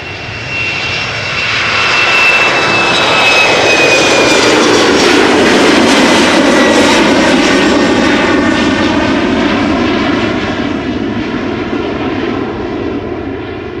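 Jet airliner taking off from Schiphol's Polderbaan runway, a loud close roar that swells and holds with a descending whine, heard alone without talk.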